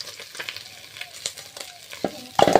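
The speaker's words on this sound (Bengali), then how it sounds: "মাছগুলো ভাজা হয়ে গিয়েছে" Whole fish, freshly netted from a pond, fry in oil with a faint, patchy crackle and scattered pops, ending in a louder clatter of a utensil against the pan.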